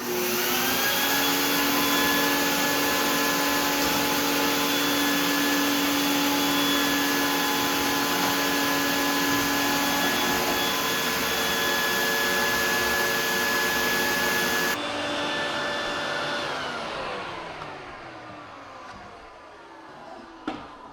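A loud vacuum cleaner drones steadily for a long stretch while cleaning a garage floor, then powers down and whines to a stop.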